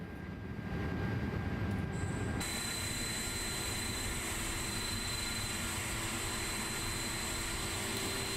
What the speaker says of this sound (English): Let's come in here and try and start the other engine